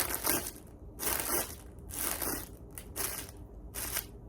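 Tree Thrasher 3-in-1 deer call worked to mimic rustling leaves, giving five crisp crinkling, crunching bursts about a second apart, close and fairly loud with short pauses between.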